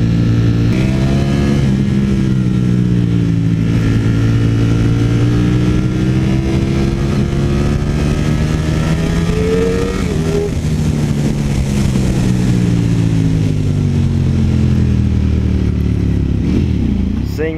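A Ducati Streetfighter V4S engine roars close up as the bike accelerates hard through the gears, pitch climbing in long sweeps with a drop at each shift, loud and continuous throughout.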